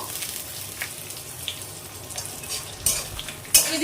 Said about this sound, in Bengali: একটু তো রিফাইন তেল তো দিয়ে দিয়েছি আর এখন একটু দিয়ে দিচ্ছি ঘি দিয়ে দিচ্ছি গোটা গরম মশলা কাজু